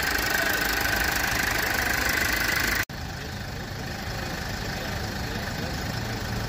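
A diesel car engine idles in a steady, droning hum throughout, close and even, with a brief dropout partway through before the same hum resumes.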